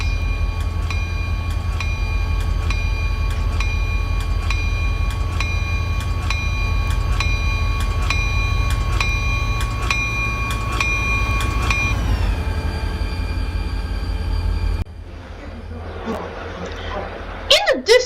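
Trains in the Roblox Ro-Scale game rumble steadily with a dense low drone and a regular repeating metallic clicking pattern, loud and continuous, then fade into a quieter stretch where someone talks near the end.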